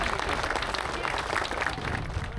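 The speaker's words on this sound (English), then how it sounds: "round of applause for Stevie" A crowd at a motorcycle charity ride gathering in Glasgow applauds steadily for Stevie, named best in show, a dense wash of clapping throughout with faint voices mixed in.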